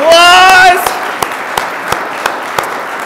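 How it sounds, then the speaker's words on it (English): A short whoop, then a handful of sparse, evenly spaced hand claps from a small audience at a church children's Advent program. "Round of applause!"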